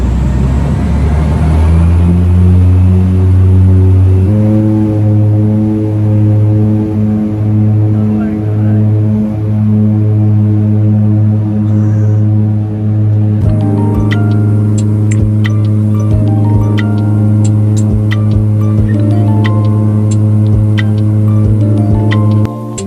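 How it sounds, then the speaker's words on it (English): Propeller engines of a small inter-island passenger plane in the Seychelles starting up: a deep, steady droning hum that rises in pitch as they spool up, then holds loud and constant with faint clicks and rattles over it. "the propellers are starting their engines"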